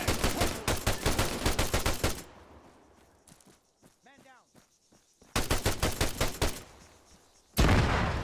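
Arma 3 video game gunfire, rapid automatic bursts in two loud stretches separated by a quieter gap with faint distant shots and a brief voice.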